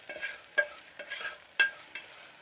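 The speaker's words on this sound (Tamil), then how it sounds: "இப்போ மஞ்சள்தூள் கொஞ்சம் போட்டுக்கலாம். ஒரு 1/2 ஸ்பூன் போட்டுக்கலாம் மஞ்சள்தூள். அதையும் ஒரு செகண்டு அந்த வாசனை போகிற வரைக்கும் நல்லா மிக்ஸ் பண்ணிவிட்டு" Half a spoon of turmeric powder being mixed into tempered oil in a pot, a few quick scraping stirs and light clinks over a soft sizzle, close and brief with no voices.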